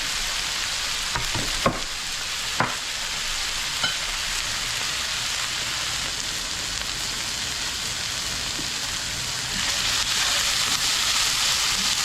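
Tomatoes fry in hot grease in a pan for a cheap breakfast, a constant dense sizzle like light rain, close and even, growing slightly louder near the end, with a couple of faint clicks and no speech.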